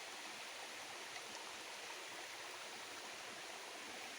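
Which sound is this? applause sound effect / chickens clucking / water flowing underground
water flowing underground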